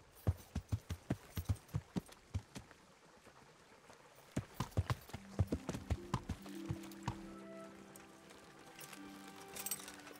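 Horse hooves walk in a medieval role-playing game, Kingdom Come Deliverance, a steady run of close clip-clop footfalls that fade slightly later as a low sustained musical tone enters.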